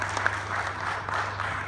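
Audience clapping at a corporate comedy show in cheer for Haryana, a fairly quiet, steady patter of applause over a low hum, with no voices standing out.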